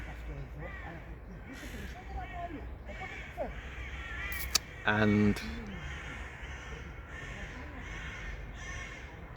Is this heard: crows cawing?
yes